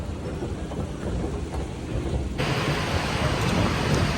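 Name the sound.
rain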